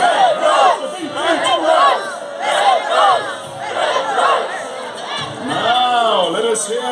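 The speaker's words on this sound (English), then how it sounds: "your cheer is Red Rose, Red Rose, Red Rose" A Lancastrian crowd at a Wars of the Roses live show at Warwick Castle shouts the Red Rose battle cry, a loud chant of many voices repeated in three rhythmic surges with brief pauses between.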